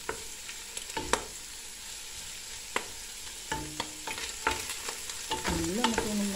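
Pork sizzles in a pan as it is sautéed for adobo with long beans, a steady frying hiss broken by sharp clicks and clinks of a utensil against the pan. The stirring grows busier toward the end.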